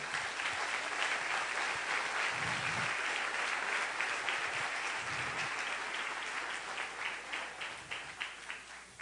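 Sustained audience applause at a Spanish-language church gathering, a dense wash of many hands clapping that holds steady, then thins into scattered individual claps near the end.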